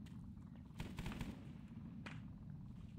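Gunfire in a Vietnam-era jungle military shooter, a steady low rumble of distant shots with a couple of louder close bursts, no talking.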